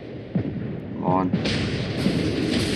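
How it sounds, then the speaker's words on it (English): Naval artillery in World of Warships during an arctic battle, heavy booms and rumbling blasts as shells land, with a voice talking over the noise. "They're shooting me from so far away."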